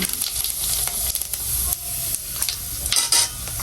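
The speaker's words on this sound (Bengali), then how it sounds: "এবার হচ্ছে বাগার দিব। দিলাম জিরা" Cumin seeds crackle and sizzle in hot oil for tempering, with a bright, close frying hiss broken by quick stirring clinks of a utensil against the pot and no voices.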